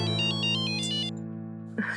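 A loud electronic phone ringtone repeats its tonal pattern in a quiet room, then cuts off about halfway through, followed by a short rustle as the phone is answered.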